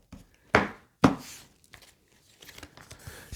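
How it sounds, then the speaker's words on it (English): A tarot card deck is cut and shuffled, two sharp riffling bursts in quick succession, then softer scattered card rustles and taps close by, with no voices. "let's cut the deck and see what we got."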